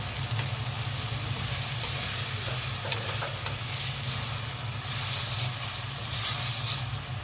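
Onions sautéing with rock salt in a pan for a home-style fish curry give a steady, continuous sizzle and hiss, even and close, with no talking.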